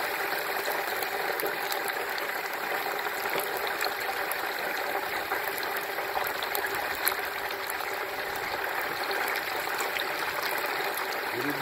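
A 17-pound turkey is lowered slowly into bubbling hot grease in a Butterball electric fryer, giving a steady, moderately loud hiss and crackle throughout.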